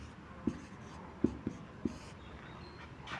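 Writing out a maths question for a basic addition and subtraction lesson: faint scratchy strokes with a few soft taps as the writing tool meets the surface, quiet against a hissy room background.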